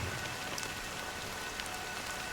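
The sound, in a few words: rain falling, from the video game Honkai: Star Rail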